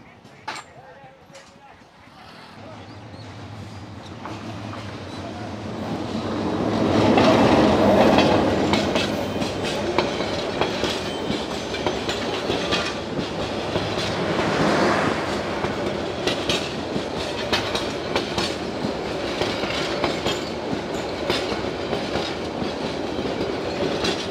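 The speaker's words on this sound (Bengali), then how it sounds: "হাটের পাশ দিয়ে ধুলা উড়িয়ে চলে গেল জামালপুর এক্সপ্রেস ট্রেন, আন্তনগর ট্রেন" A Jamalpur Express intercity train runs past a rural trackside village market, its rumble building to a loud pass with rhythmic wheel clatter, then lingering as a steady rolling roar among market noise and faint voices.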